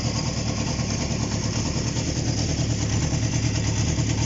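Honda CB750 motorcycle engine, bought as a project and running with bridged ignition, idling with a steady, close, loud throbbing tick-over and no voices.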